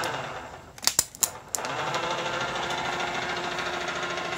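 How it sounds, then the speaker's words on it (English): A 60-volt D&D electric boat motor with a 400-amp controller spins up after a few sharp clicks, settling into a steady, close mechanical whir that runs on without interruption. "It's got a 60-volt D&D electric motor and a 400-amp controller. And now you'll see it. The motor is turning."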